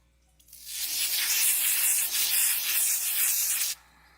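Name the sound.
spraying spot remover on a carpet stain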